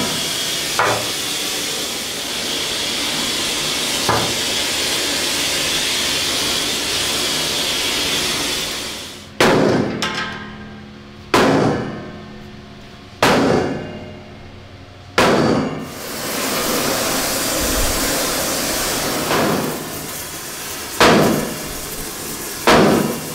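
Heavy hammer blows ring out against a WWII German StuG steel armour plate being flattened, about seven sharp clangs spaced a couple of seconds apart, each decaying over a steady hissing background.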